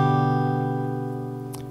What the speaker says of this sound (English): So the acoustic sounds like this.